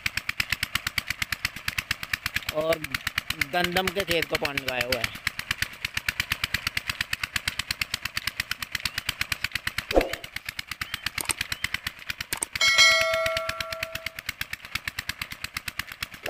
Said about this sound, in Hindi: 16 हॉर्सपावर का डीजल इंजन है, 4 इंच डिलीवरी है